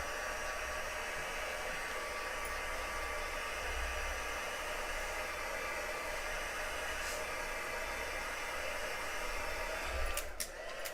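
A hair dryer blows steadily to dry wet glue on a papercraft card, a constant close airy roar with faint clicks near the end and no speech.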